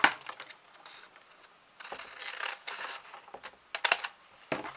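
Scissors snip through stationery paper along a drawn line in a quiet room, a run of crisp, close cuts and rustles with short pauses between strokes.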